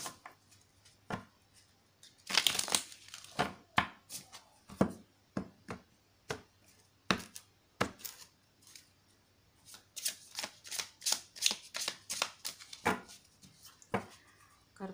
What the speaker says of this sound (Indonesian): Kartunya sulit untuk disuffle